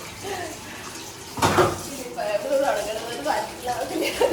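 Dishes being washed in a sink under a running tap, with a steady wash of water noise and occasional clinks, while someone talks over it throughout.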